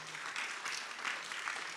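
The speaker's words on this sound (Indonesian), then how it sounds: "Berikan tepuk tangan yang meriah buat Tuhan." Congregation at a church service in New York clapping together, a dense steady patter of hands held at an even level for a couple of seconds without a break.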